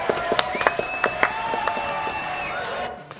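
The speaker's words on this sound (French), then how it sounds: "Voilà, applaudissements," Studio audience applause on a French television show, scattered sharp claps over a background with a sustained tone, fading out near the end, while a voice may be faintly present.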